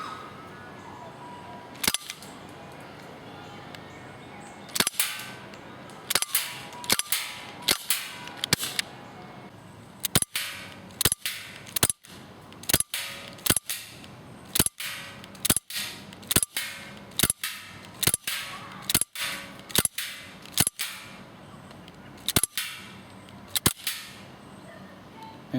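Shots from an Umarex Walther P99 CO2 airsoft pistol crack out sharply one by one, a few spaced apart at first and then a fast irregular string of about twenty snappy pops, close and loud against a quiet background.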